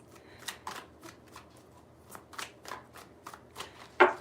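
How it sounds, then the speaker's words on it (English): Tarot deck shuffled by hand, a steady run of soft papery riffles and flicks in quick rhythm, close and quiet, finishing with a sharper slap of cards. "3 shuffles for Taurus"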